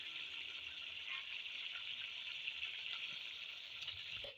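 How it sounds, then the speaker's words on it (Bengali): Faint, steady sizzle of boal fish pieces frying in hot oil, a soft continuous hiss with a light clink near the end and no voices. "এই পর্যায়ে আমি বোয়াল মাছের পিসগুলো আমি দিয়ে দেবো এক এক করে"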